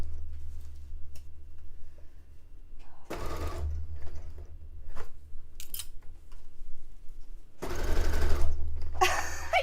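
A sewing machine stitching a dress made from bed sheets, two loud fast runs of mechanical whirring and needle chatter separated by quieter handling sounds and pauses.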